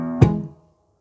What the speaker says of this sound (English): You'll play the bass note, followed by a down strum, kind of a chunk sound.